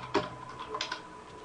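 A computer keyboard being typed on to enter the ipconfig command at a command prompt, giving a few quick, soft key clicks in a short burst, close and fairly quiet, with no talking.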